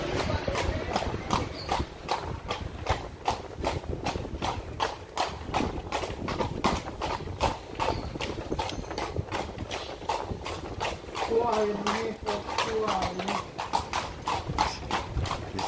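Horse hooves clip-clop steadily on a street in Granada, Nicaragua, as a horse-drawn carriage rolls along, the close, regular beats running throughout with faint voices at moments.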